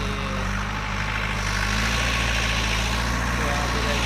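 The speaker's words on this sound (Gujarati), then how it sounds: "ટ્રેક્ટર ઉપડ્યા" Heavy diesel tractor engines idle and rumble steadily throughout, a low continuous drone with mechanical vibration close by.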